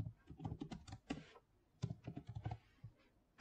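Typing on a computer keyboard while entering a password: quick bursts of close, crisp key clicks with short pauses in between, no voices.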